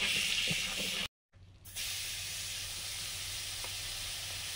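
Butter sizzling in a hot cooking pan while making paneer butter masala, a steady bright hiss that cuts out briefly near the start and then resumes at an even level.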